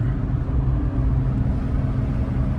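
A Fiat 500 drones steadily from inside while driving, its engine and road noise forming a constant low hum with no talk.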